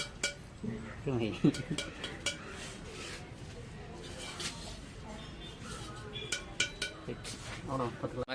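Clay pots for palm sap are tapped one after another, giving light hollow clinks and knocks at irregular intervals under voices talking nearby.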